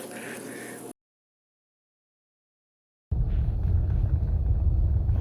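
A Dodge Charger AWD rolls down the road over short, choppy bumps, a steady low rumble of road and engine noise broken by a two-second gap of silence.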